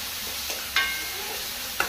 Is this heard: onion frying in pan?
yes